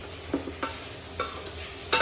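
Okra is stir-fried in a home kitchen pan, with a quiet sizzle under a few separate scraping stir strokes and no one talking.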